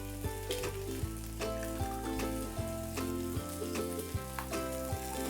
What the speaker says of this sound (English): Once my egg pan gets hot, I'm gonna take a fresh egg, crack it right over my pan.